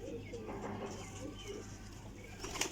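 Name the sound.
pigeons cooing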